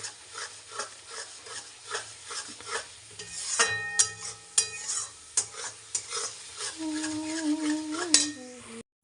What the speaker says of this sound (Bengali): আদা রসুন টমেটো কাঁচা লঙ্কা পেঁয়াজ সবই আছে নুন হলুদ মিষ্টি সব দিয়ে ভালো করে কষাচ্ছি